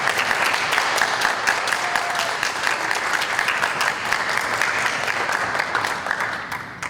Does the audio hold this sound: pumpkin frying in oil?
no